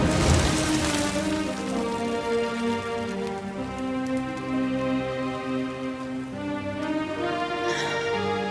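Steady rain falling in Dragon Quest XI, a continuous patter on surfaces beneath a sustained musical score, with no talking.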